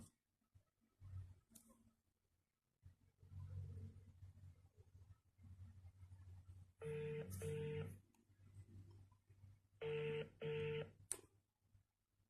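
A telephone rings twice in short electronic trilling bursts, fairly distinct over a low background hum and faint room noise.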